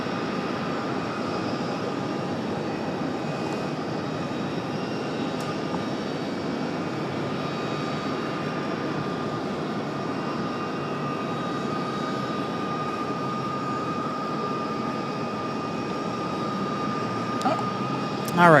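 A plane departs on runway 23 right at Raleigh-Durham airport, its engine roar a steady, broad rumble that holds at constant loudness throughout, with faint talk mixed in beneath it.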